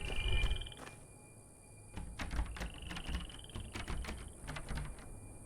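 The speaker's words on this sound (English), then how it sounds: "They're those little tiny frogs, aren't they?" Tiny frogs in bushes give quick, faint clicking croaks in irregular bursts, scattered at a distance against a quiet background hum in the video game Obduction.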